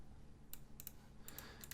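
Quiet, scattered keystrokes on a computer keyboard while someone types a search, a few light clicks in short bursts over a low background hum.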